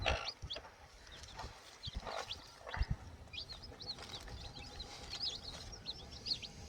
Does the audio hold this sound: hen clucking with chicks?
yes